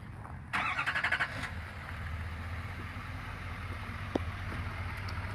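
The 6.6-liter Duramax diesel engine of a 2019 Chevrolet Silverado 3500HD LTZ pickup starts by remote, with a brief cranking burst settling into a low, steady idle, heard fairly faintly from a distance.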